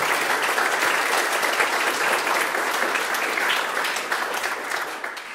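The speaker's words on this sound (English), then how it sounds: "can we give them one more round of applause?" A high school audience gives a full, loud round of sustained applause for student presenters after a class presentation, a dense, even wash of many hands clapping together that eases slightly toward the end.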